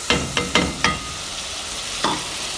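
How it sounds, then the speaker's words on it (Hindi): Blended tomatoes and Shaan achar gosht masala sizzling in oil as a spoon scrapes the pan, for a shimla mirch aloo qeema: four quick stirring strokes close together, a pause, then one more over a steady frying hiss. "ये मसाला हमारा भुनना शुरू हो गया है"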